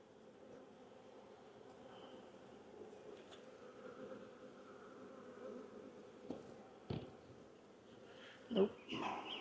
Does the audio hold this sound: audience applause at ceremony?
no